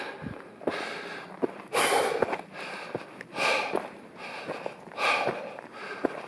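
Heavy, rhythmic breathing of a hiker climbing a long uphill slope on the Colorado Trail, with close, windy inhales and exhales and light footsteps crunching in between.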